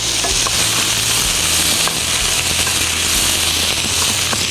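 Pumpkin chunks and sitaw string beans stir-frying in a hot pan, a loud, steady, dense sizzle with faint crackles and occasional stirring scrapes, continuous with no talking.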